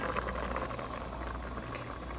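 Water rolling at a boil and steaming in a water bath canner on the stove while canning salsa, a steady, close hiss and bubbling with no voices.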